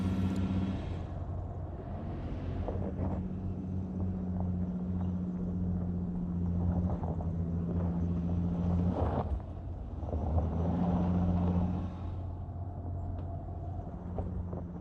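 A 2012 Honda Pilot with VTM-4 all-wheel drive labors up a very steep hill, its engine giving a steady, loud droning rumble with a low hum that surges and eases, heard from inside the vehicle without speech.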